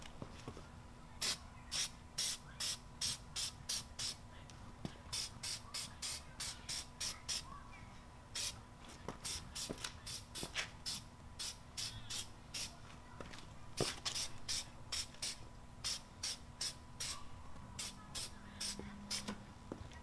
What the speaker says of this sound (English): I'm going to spray this on and see how it comes out.